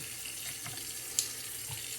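Hot water runs steadily from a tap to soak a shaving brush, a quiet continuous trickle with one brief clink partway through.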